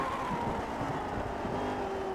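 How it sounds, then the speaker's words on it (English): A race car engine drones steadily at a moderate distance, its pitch gliding slightly as it holds speed, with no voices. "Mick the Quick working his way through the corkscrew"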